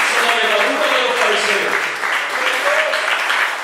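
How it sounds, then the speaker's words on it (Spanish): A church congregation applauds during an evangelical service, a dense, steady wash of clapping that holds for several seconds while a voice carries faintly over it. "Dale un aplauso a Dios esta noche"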